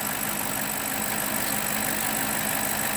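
A BMW E60 545i with the N62 V8 idles while warming up, giving a steady, even engine hum that holds without change and with no talk over it.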